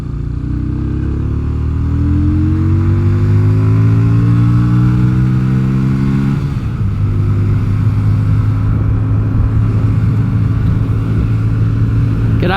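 A Yamaha XV250 bobber motorcycle rides along the road, its small V-twin engine droning loud and close under steady throttle, rising in pitch as it accelerates, dipping at a gear change, then holding a steady cruising note with wind rush.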